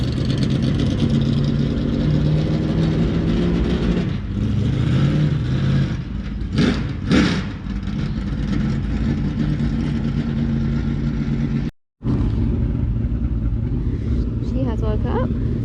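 Car with a rebuilt Brinn transmission driving slow circles, a steady mid-pitched engine hum close by with gentle rises in revs, brief talk over it and a short dropout near the end.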